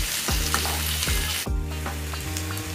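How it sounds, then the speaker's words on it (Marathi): Cabbage and capsicum fry in a pan with a steady, loud sizzle, broken by spatula scrapes and stirs roughly every second, close up with no voices. "कोबी देखील थोडासा फ्राय करून घ्यायचा आहे."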